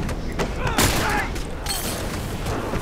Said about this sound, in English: Four shots, three downs, I'll take it.